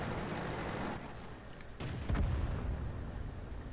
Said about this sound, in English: Because shit is exploding all over the place.